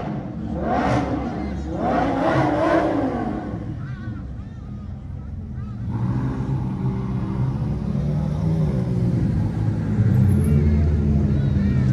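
Supercars pull away one after another as an event ends, loud rising engine sweeps followed by a deeper continuous rumble that builds again toward the close.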